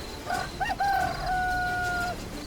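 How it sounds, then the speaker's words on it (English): A single rooster crows in an Arma 3 game world at morning, one clear mid-distance cock-a-doodle-doo with a long drawn-out final note, over a faint ambient background. "roosters make noises in the morning"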